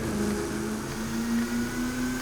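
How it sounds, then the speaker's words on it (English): Bugatti engine in The Crew 2 racing game, a steady rumbling drone with a faint rising whine layered on top, continuous and fairly loud for a couple of seconds with no talk. "listen to it, it's got that rumbly noise and also what sounds like a supercharger"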